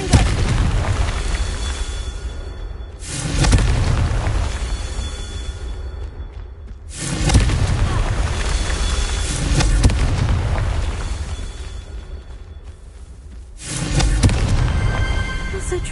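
Confringo blasting spells burst in repeated loud explosions in Hogwarts Legacy, four heavy booming blasts a few seconds apart, each rolling off into a rumbling tail.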